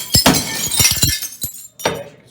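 Hammer smashing window glass, a series of sharp cracking impacts followed by bursts of shattering and tinkling shards, close and loud, with a pause before a final strike.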